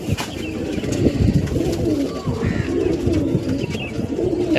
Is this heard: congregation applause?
no